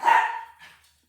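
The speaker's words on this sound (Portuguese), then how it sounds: "Perdão pelos meus cachorros." A dog lets out one loud, close bark lasting under a second, followed by a fainter, shorter yelp before silence.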